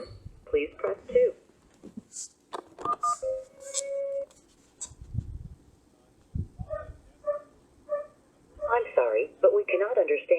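Telephone keypad presses on an automated phone line, producing short steady touch tones in quick clusters alongside an automated voice prompt and gaps of quiet.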